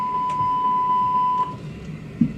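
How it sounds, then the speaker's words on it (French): An Airbus A320 simulator cabin pressurisation loss alarm sounds as a repeating pulsed electronic chime, several quick even beeps over about a second and a half, above a low steady cockpit hum. "Cette alarme, qui a le même son que l'alarme feu, nous indique que nous avons une perte de pressurisation de la cabine."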